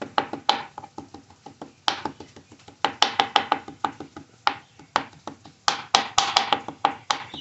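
Knife chopping cilantro and oregano on a board, a steady run of quick, close, crisp blade taps in bursts with short pauses, no talk.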